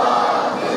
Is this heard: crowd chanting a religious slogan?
yes